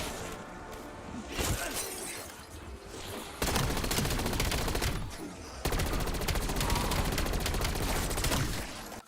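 Gun firing in Black Ops 7 zombies, dense rapid automatic bursts in several long strings separated by short gaps, loud and close, with crashing impacts mixed in.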